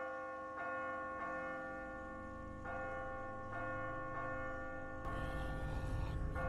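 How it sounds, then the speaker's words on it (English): A bell rings in The Walking Dead video game, struck repeatedly in slow, evenly spaced peals with long resonant tones that sustain and overlap, until a louder rumble joins near the end. "Dinner bell."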